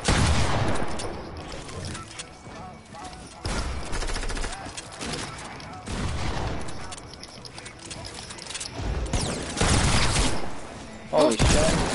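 Rapid bursts of gunfire from a shooter video game featuring a minigun and Desert Eagle pistol, loud repeated volleys across the clip with short gaps between them, while a player talks over the action.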